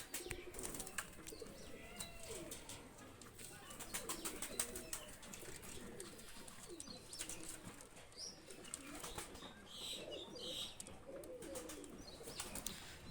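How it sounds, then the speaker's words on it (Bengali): Pakistani high-flyer pigeons coo and chirp faintly as they are let go outdoors, with soft bursts of wing flapping among scattered bird calls over a low, quiet outdoor background. "দুইটা কবুতর ছেড়ে দেখাচ্ছি"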